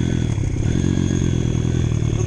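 A 2012 Honda CRZ 150 S motorcycle in poor condition, running slightly rich, revs close up with a steady, rough mid-pitched engine drone and a faint metallic clatter.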